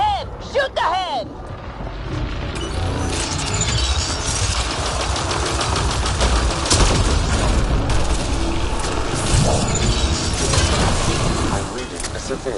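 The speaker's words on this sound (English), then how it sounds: "Shoot the head!" Continuous gunfire and booming combat in Mass Effect Andromeda, rapid shots and thuds layered over a dense roar of battle sounds for the whole stretch, with voices shouting underneath.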